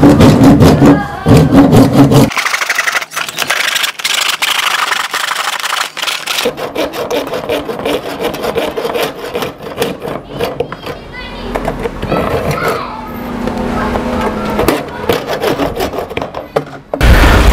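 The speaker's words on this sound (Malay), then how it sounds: "Untuk potong gutter ni, saya akan gunakan gergaji tangan," A hand saw for wood cuts through a plastic rain gutter, giving a rough, steady rasping back-and-forth that runs loud and close for most of the stretch, with someone briefly talking near the start.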